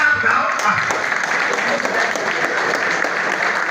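A dense, steady burst of applause from an audience at a one-day capacity-building event held with a Nigerian senator, many hands clapping close and loud without a break for the whole stretch.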